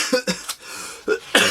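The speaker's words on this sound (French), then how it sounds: "Vous voyez, je tousse." A man coughs several times in short, sharp bursts with brief pauses between them, close and fairly quiet.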